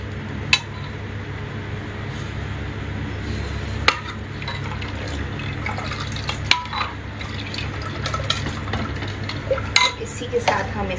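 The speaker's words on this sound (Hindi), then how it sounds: "इसको मिक्स कर देंगे अच्छे से" A spoon steadily stirs and mixes food in a metal pot on a home kitchen stove, with soft scraping and occasional sharp clinks against the pot over a low background hum.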